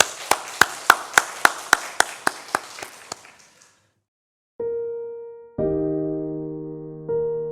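A church congregation claps in about a dozen sharp, evenly spaced claps that fade out, then after a short pause sustained keyboard chords begin to play.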